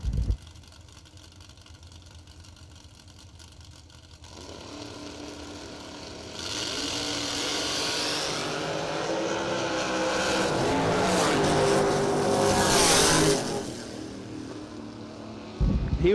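A 1934 Chevy Roadster at a drag strip idles, then launches down the lane with a loud engine roar that climbs steadily, peaks and fades as it pulls away, with other engine noise around it.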